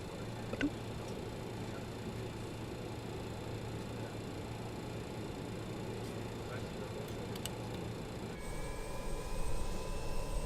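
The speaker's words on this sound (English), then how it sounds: "Love that noise when you start engines." A steady low jet engine drone from a BAE 146 in Microsoft Flight Simulator 2020 with whining tones runs throughout, rising slightly near the end as a higher spool-up whine enters; no talking.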